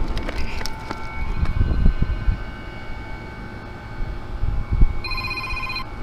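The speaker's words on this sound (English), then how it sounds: "I got a phone call coming in." A mobile phone ringtone for an incoming call sounds near the end, a short tonal ring over rumbling wind and outdoor noise at an RV park in Holiday, Florida.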